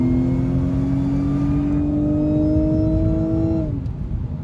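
A loud, steady mechanical whine from the supercharger of an Audi S5 V6T coupé rises slightly in pitch over a rumbling V6 engine, then cuts off sharply near the end.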